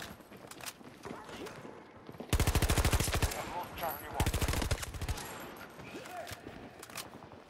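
Rapid automatic gunfire from the player's gun in Battlefield 2042, two loud sustained bursts of a couple of seconds each, close and dominant over quieter battlefield noise and talk.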